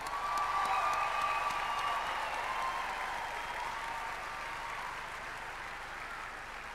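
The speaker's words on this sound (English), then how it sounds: "Give it a round of applause, please" A graduation audience at the University of the Western Cape ceremony gives a long, loud round of applause that fills the hall and slowly tapers in intensity, with no talking over it.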